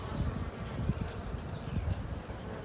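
Honeybees buzz inside an open beehive, a dense, close, steady hum of many wings with small fluctuations and faint rustling as the frames are handled.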